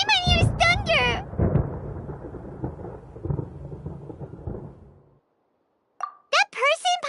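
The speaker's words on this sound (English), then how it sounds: "Paimon hears thunder!" Thunder in the Genshin Impact video game, a low rumbling crash that rolls on for several seconds after brief high character voice sounds, then fades to silence before more voice returns.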